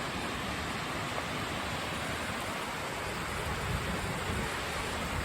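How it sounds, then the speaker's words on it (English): A steady, dense roar of rushing water from a large gorge waterfall in Ithaca, New York, that never lets up, broad and constant like a waterfall heard from nearby. "Holy cow, that's a big waterfall."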